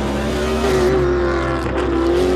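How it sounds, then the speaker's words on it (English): A race car engine revs in a steady, sustained drone with a slight shift in pitch, loud and close, with no voices over it. "listen to the sound of the engine"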